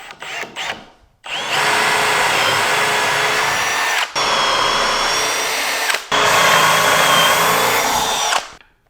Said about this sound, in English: let's get a little bit of Forstner bit action going on.